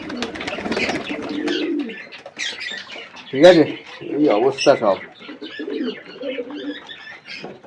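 Pigeons coo at a morning feeding, their low throaty calls rising in a few bursts between and beneath a man's nearby speech.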